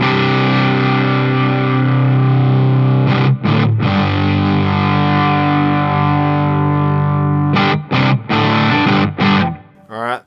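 An electric guitar runs through a Fulltone GT-500 distortion pedal, playing sustained, thick chords that ring out loudly, broken by a few short stops and a fade near the end.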